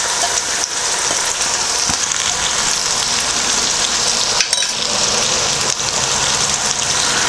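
Capsicum hitting frying onions in a pan for an Indian restaurant base gravy, a loud steady broadband sizzle filling the whole stretch, with a brief stir or clatter near the middle.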